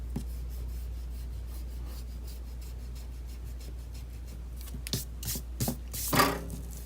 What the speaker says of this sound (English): I'm going to go ahead and erase these guidelines here using my Stettler